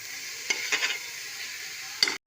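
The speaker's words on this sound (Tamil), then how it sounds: "இப்போ வந்து நல்லா கலந்துக்கணும்" Vegetable biryani mixture stirred in a pan, with a steady low sizzle and a few soft scraping strokes of a spoon against the pan, close and fairly quiet, ending in a brief cut to silence.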